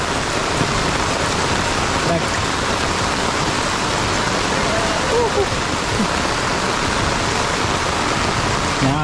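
Heavy monsoon rain pours in Konkan beside a swollen, rushing river, a loud continuous wash of falling water and current with no break.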